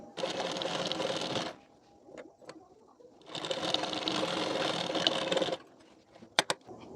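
A sewing machine stitches the belt part of a collar-neck blouse in two long, steady runs of rapid close whirring, separated by a quiet pause and followed by a few sharp clicks.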